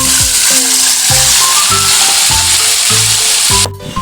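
Marinated pork frying in oil after garlic has browned, a steady loud sizzle with repeated clanks and scrapes of a utensil stirring the pan, ending in a brief quiet moment.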